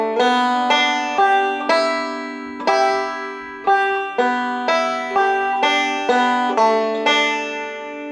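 Bright plucked banjo notes roll out in a quick, steady picking pattern, a lively Scruggs-style down-the-neck break of "Cumberland Gap" played close and clear with no voices.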